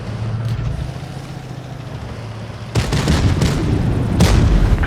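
A low rumble gives way to a series of booming blasts and heavy impacts from tank combat in World of Tanks Blitz, loud and close, with no talking.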